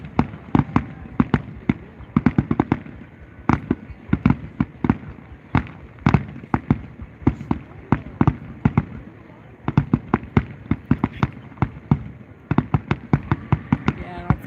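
A fireworks finale bursts as a rapid barrage of sharp, loud explosions in dense clusters, with brief gaps between volleys and a faint rumble underneath.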